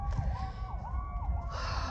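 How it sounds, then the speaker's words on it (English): A wailing emergency siren rises and falls in distance over a low rumble of traffic, moderately loud and continuous. "listen to those sirens"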